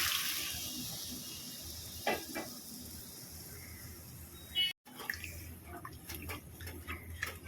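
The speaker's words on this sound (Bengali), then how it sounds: "এবার দিয়ে দেবো অল্প করে গরম জল" Hot water poured into a pan of fried potato and pointed gourd curry, a broad steamy hiss and sizzle that fades over several seconds, followed by a brief cutout and scattered soft clinks and bubbling.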